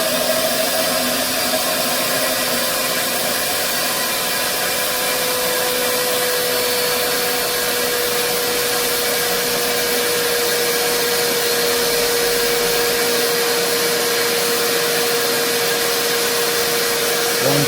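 Air rushes through a Shredder cylinder head on a flow bench, making a loud, steady, unbroken whooshing drone with a faint tonal hum that runs the whole time.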